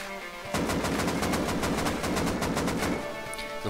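Automatic rifle fire in the survival game Rust: after a short quiet lead-in, a sustained rapid burst of loud, evenly spaced shots runs for about two and a half seconds, then stops.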